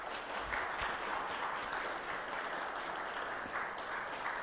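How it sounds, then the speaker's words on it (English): Lutheran church congregation clapping to welcome a new member during Sunday worship, a soft but continuous patter of many hands at a steady, moderate distance. "I invite you to welcome him with applause."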